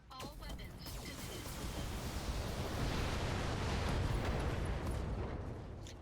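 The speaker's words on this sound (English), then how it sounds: "There's another ammo explosion." An ammo explosion on an enemy mech in a mech combat video game, a loud roaring blast that swells and holds as a broad rumble for several seconds before it starts to fade.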